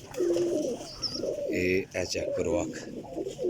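Sialkoti flying pigeons coo in soft, rolling calls close by, repeating throughout while someone speaks over them.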